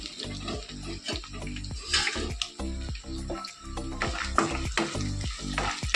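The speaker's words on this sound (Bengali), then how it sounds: "পেঁয়াজগুলোকে একটু ভেজে নেবো পেঁয়াজটাকে একটু লাল লাল করে ভাজা করে নিয়ে" Onions frying in oil in a pan, with repeated rhythmic scraping and stirring strokes, close by, occasional louder clatters; no voices.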